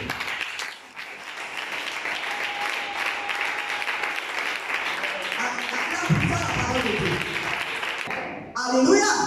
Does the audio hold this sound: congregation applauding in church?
yes